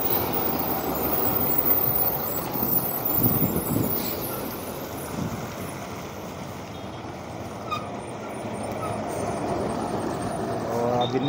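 A loaded truck rumbles along a mountain ghat road with steady broadband engine and road noise throughout, fairly close and continuous, without clear speech over it.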